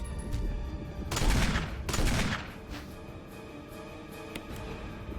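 Rocket launcher in Resident Evil 1 Remake firing twice in quick succession, each launch a heavy blast with a long rumbling tail, followed by quieter game ambience and faint scattered impacts.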